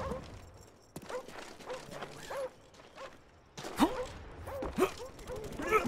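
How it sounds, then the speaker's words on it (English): Attack dogs from a Black Ops video game kill streak bark and yip in several sharp, fairly faint bursts amid game noise and mechanical creaks. "Dogs is probably the greatest kill streak ever."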